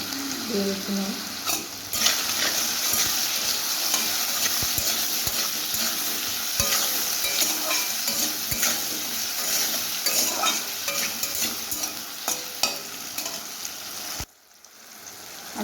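Potatoes fry in a pan with turmeric and green chillies, sizzling loudly and steadily under repeated scraping stirs of a utensil, until the sizzle drops away abruptly near the end.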